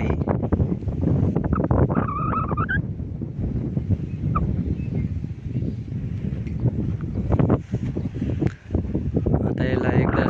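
Gusty wind buffets the microphone over a twenty-guntha turmeric field, rising and falling in rough waves, while someone talks and birds call faintly nearby.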